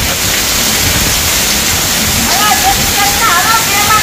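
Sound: heavy rain in village

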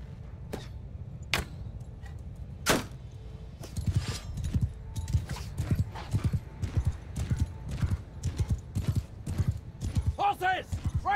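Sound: horses galloping in the video game Mount & Blade II Bannerlord

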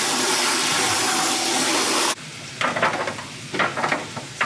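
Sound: onions and bell pepper frying in a pan

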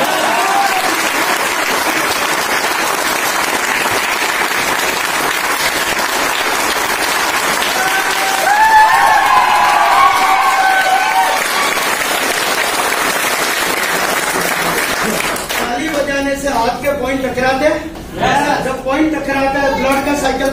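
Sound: audience clapping loudly at marketing event

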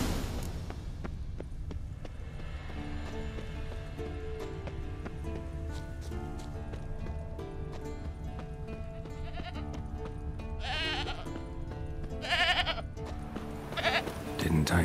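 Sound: goat bleating in video game The Witcher 3

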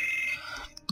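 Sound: alarm going off

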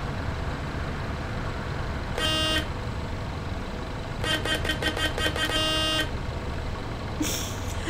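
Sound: bus horn honking in video game Bus Simulator 18

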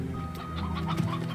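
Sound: hens clucking in the video game Slime Rancher

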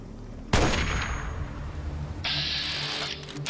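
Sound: gunshot in the video game Fallout 3

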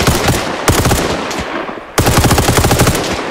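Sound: gunfire emptying magazine in video game Arma Reforger

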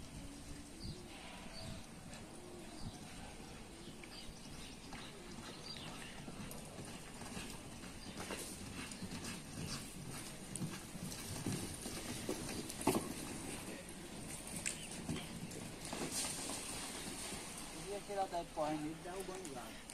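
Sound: horse hooves clip-clopping

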